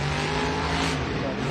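A monster truck engine runs at throttle in a stadium arena at a Monster Jam event, a loud, steady, harmonic roar close by with a slight swell, under an announcer's commentary.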